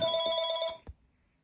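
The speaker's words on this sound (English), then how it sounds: "Sorry about that phone call." A telephone ringer warbles in a rapid trill for under a second, then cuts off with a soft click, close and fairly clear with nothing else around it.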